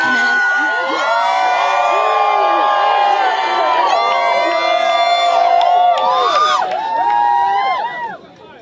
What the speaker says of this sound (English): Everybody get loud, start yelling and screaming, you know, represent, do all that.